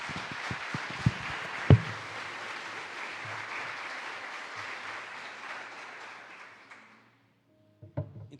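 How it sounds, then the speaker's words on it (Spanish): A church congregation bursts into steady applause, a dense wash of many hands with a few sharper claps near the start, holding for about seven seconds before fading out, then a couple of brief knocks at the end. "Dele un aplauso al Rey."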